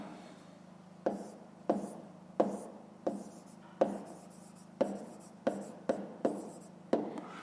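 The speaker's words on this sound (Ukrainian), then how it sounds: "зараз тоді записуємо відповідь. Пишемо відповідь." A pen writes an answer on paper in close, quiet, scratchy strokes, about a dozen short bursts in a steady, slightly uneven rhythm over a soft background hiss.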